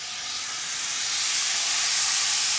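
Marinated skirt steak hitting a hot pan, a broad hissing sear that swells louder over a few seconds and holds steady, with no voices.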